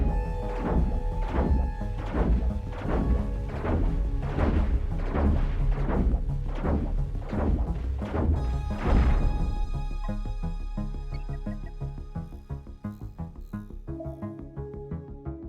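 Starship weapons in the space game Cosmoteer pound an enemy ship's front armor with a rapid run of heavy, booming thuds for about nine seconds, then give way to a lighter, steadier hum of fire and clanks.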